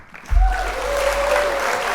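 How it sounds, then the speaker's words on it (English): A crowd at a Marathon Burger grand opening breaks into loud, sustained applause and cheering that swells quickly and holds steady, with a faint whistle in the mix. "round of applause that we talking about burgers today."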